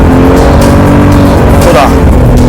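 A heavyweight mid-engined sports car drives hard on a race track, its engine droning loud and continuous with a faint tire squeal, while a voice talks over it.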